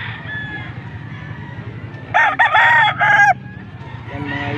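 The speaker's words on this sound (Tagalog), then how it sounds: "Mga gwapo manok ni boss." A rooster crows loudly once in Angeles, Pampanga, a long harmonic call rising over a steady murmur of background noise and other birds.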